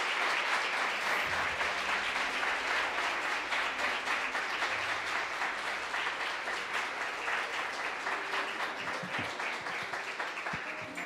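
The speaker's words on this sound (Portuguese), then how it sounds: "Vamos aplaudir o Senhor." A church congregation applauds during a Sunday morning service, a dense, steady wash of clapping from many hands that carries evenly for about eleven seconds and eases slightly toward the end.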